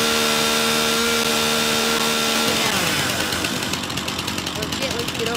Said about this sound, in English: Oh, we got chainsaw now!